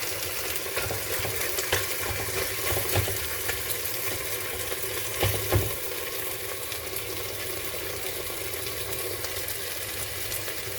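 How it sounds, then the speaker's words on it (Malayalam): Tomatoes stirred into chicken frying in a pan for chicken pulao, a steady close sizzle with intermittent spoon scrapes and a few louder stirring knocks midway. "ഇതിലേക്ക് നമുക്ക് തക്കാളി ചേർത്ത് കൊടുക്കാം. ഒന്ന് മിക്സ് ചെയ്ത് കൊടുക്കാം."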